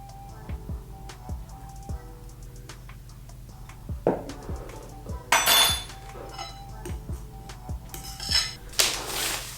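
Metal spoon and utensils clinking against a mixing bowl while vanilla is added to a banana cake batter, with scattered light taps and a couple of louder clattering scrapes, close by.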